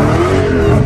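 A Hellcat engine held hard against the rev limiter, a loud, close, sustained high-rpm roar with rapid stuttering bounces as the limiter cuts in.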